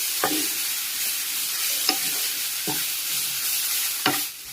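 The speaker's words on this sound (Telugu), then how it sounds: "కొంచెం కరివేపాకు కొత్తిమీర కూడా వేసేసుకుని అలా ఫ్రై చేసుకోవాలి" Shrimp shells crackle and sizzle in hot oil with curry leaves and coriander, a steady close frying hiss broken by a few sharp stirring scrapes of a spoon.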